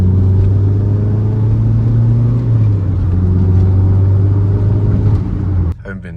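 Car rolling down Mason, a steady low engine drone and road rumble throughout, a tonal hum holding underneath until a brief clatter and a drop in level near the end.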